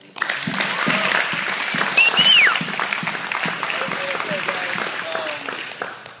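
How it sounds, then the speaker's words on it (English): Steady audience applause fills a jiu jitsu purple belt promotion in a gym in Arlington, Texas, sustained clapping throughout with a few voices and cheers mixed in. "another big round of applause."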